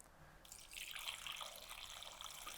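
Purified water is poured into a pot of sea cucumbers, a soft splashing trickle that starts suddenly and keeps flowing steadily and quietly up close.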